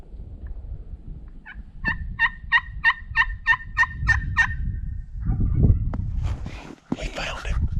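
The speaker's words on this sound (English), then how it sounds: "I did think we hear a turkey in the distance somewhere." A wild turkey gobbles in a rapid run of about eight pulses in the distance, with snow on the ground and in the trees, and low wind and crunching movement nearby.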